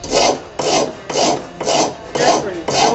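A hand file rasps across a piece of aluminum in a hot rod workshop, six even back-and-forth strokes in a steady rhythm, close and loud with no talking.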